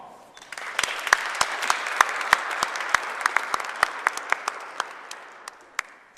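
Steady applause from an audience, with sharp individual claps standing out over a dense wash of clapping for several seconds, no talking.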